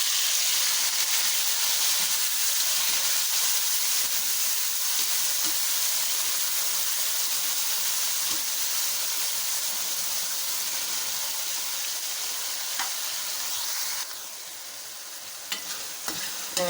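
Roughly chopped medium tomatoes hit hot oil with lightly browned garlic for a bean curry, giving a loud, steady sizzle and hiss that eases slightly near the end.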